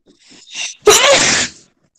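A single loud, close sneeze during an online math class, with a short breathy intake before the sharp burst.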